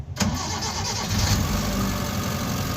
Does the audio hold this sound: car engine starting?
yes